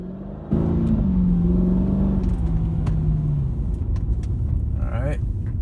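A Mercedes C55 AMG W203 in sport mode pulls away from a roll, its engine swelling into a loud, steady rising drone that holds for several seconds inside the cabin before easing off.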